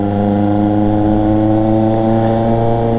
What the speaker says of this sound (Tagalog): Yung pag napakinggan mo yung exhaust, parang tatayo yung balahibo mo.